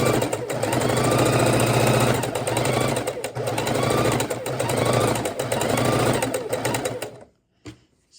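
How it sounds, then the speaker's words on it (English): A sewing machine stitches quilt fabric up close, a dense rapid whirring patter that runs in bursts with brief slowdowns, then stops abruptly near the end with a small click. "We are sewing on the skinny side."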